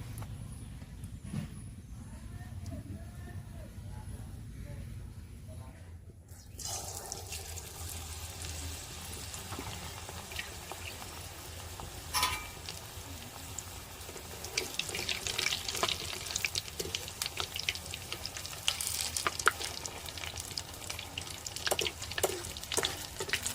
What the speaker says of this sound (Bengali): তেলটা হালকা গরম হয়ে গেছে এবারে ফুলের চপটা আমি ছেড়ে দেবো